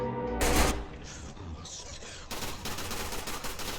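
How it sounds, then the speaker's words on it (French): Bursts of gunfire in an SCP-themed escape video game, with a loud opening volley followed by a steady crackle of further shots at close range. "Il m'a vu, il a tiré."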